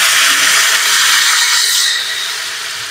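Water hitting a hot pan of fried potatoes and brinjal for a fish curry, a loud burst of steam and hissing sizzle that gradually subsides and softens toward the end.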